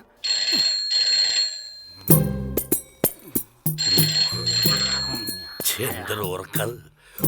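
An old-style telephone rings in repeated bursts, interrupted by short tonal musical stabs, with voices heard in between, in a Malayalam comedy film.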